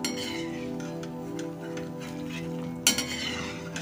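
Khari pastries deep-frying in hot oil until golden brown, a steady low sizzle with faint stirring and a brief clink of a utensil near the end.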